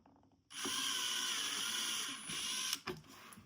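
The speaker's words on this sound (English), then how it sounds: "So I took a smaller drill bit," A small drill bit bores into a car interior part during a BMW F10 interior swap, giving a steady high whine for a couple of seconds that is fairly faint, then stops with a few clicks.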